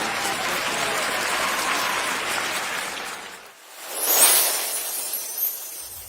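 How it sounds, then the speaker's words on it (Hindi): Audience applause at an award ceremony for a display holder winner, sustained dense clapping from a crowd that fades briefly, then swells again before tapering off. "जोरदार तालियां दोस्तों।"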